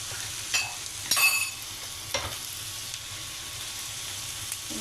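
Square-cut onion fries in a pan, a soft steady sizzle broken by a few sharp scrapes and clinks of a spoon stirring, close and alone without voices.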